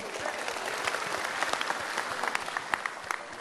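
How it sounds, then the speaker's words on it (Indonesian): Warm, dense applause fills an indoor hall after opening remarks at a Kadin business dialogue, a steady wash of many hands clapping close by with a few sharper claps standing out. "Wah, tepuk tangan luar biasa atas sambutan tadi."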